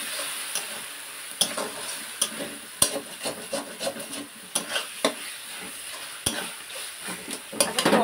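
Masala fries in a pan after water is added, giving a steady sizzle broken by repeated scraping and clinking stirs of a utensil against the pan, with no talking.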